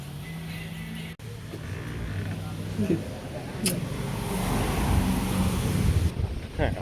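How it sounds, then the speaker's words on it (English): Strong wind during a storm with a possible tornado nearby, a loud, continuous blustery roar buffeting the microphone and building toward the end, with a sharp knock early on. "It's so windy out there."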